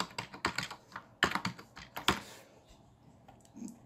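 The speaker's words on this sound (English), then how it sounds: "In here, you type in what you like." Text being typed into a video editor on a computer keyboard, a rapid run of crisp close key presses that slows and fades to quiet, no talking.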